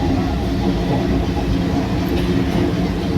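A train travels on rails on a trip to Nagore, with a steady, loud rumble and faint rhythmic clatter of wheels heard close up throughout, without a break.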